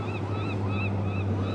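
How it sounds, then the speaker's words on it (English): A few seagulls give faint, evenly spaced calls on an overcast coast at Ocean Shores, Washington, set against a constant low rumble. "a couple seagulls in the background"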